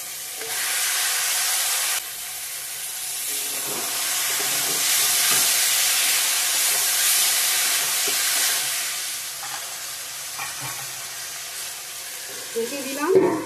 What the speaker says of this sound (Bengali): মাংসটা দিয়ে দিব এখন। ভাজা ভাজা হয়ে গেছে।